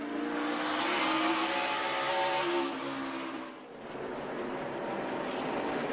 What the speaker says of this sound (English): You can see that's where the 18 gains on Larson. He just squirts up off that corner